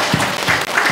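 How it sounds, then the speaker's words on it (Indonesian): Brief burst of applause from an audience at a foundation gathering about Yayasan Banjar Hitakarma, dense uneven clapping filling the moment with a faint voice underneath. "Berbanggalah, tepuk tangan dulu, apresiasi kepada teman"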